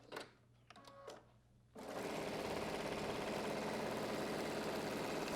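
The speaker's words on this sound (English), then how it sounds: "we're going to stitch across the facing, making sure we're not catching any of the pretty part of the pocket" A sewing machine stitches across the facing of a welt pocket on trousers, starting after a few quiet clicks and running as a steady, loud, even whirr close by until the end.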